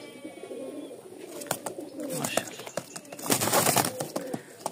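Flying Giribaz pigeons, a light cream-coloured pair, cooing close by in a loft, low throaty coos repeating under faint background noise and a murmuring voice.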